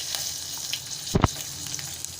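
Chopped onion and four garlic cloves drop into hot tempering oil already holding cumin, asafoetida and curry leaves, giving a short, loud burst of sizzling frying midway through a low background hiss.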